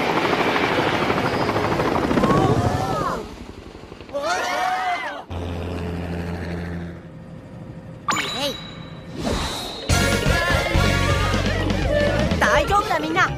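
Helicopter rotor chopping in the video game PaRappa the Rapper alongside talking voices and music, broken up by metallic dings, clangs and short whooshes.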